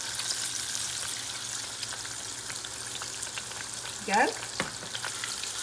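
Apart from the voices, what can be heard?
green tomatoes frying in sunflower oil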